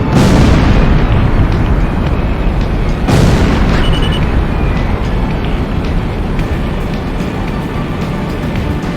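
A huge missile impact explosion in Ace Combat X: Skies of Deception, a loud sustained roar with a second blast burst a few seconds in, rumbling on continuously for several seconds without speech.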